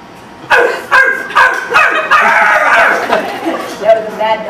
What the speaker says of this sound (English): That was a mad dog.